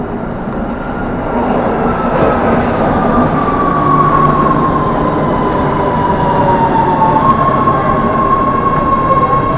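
A train pulling into a station: a loud, steady rumble and roar of rail cars rolling in, with a high screeching brake squeal drawn out across the arrival.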